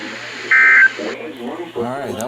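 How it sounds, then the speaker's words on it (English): A NOAA Weather Radio alarm test tone sounds as a single loud, steady beep lasting about a third of a second, followed by someone speaking. "This has been an alarm test."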